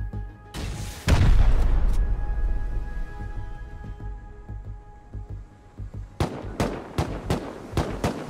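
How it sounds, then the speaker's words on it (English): Rocket explosions in the video game Rust: heavy booms early on, a rumbling lull, then a rapid string of sharp blasts near the end. "Those are real rockets though."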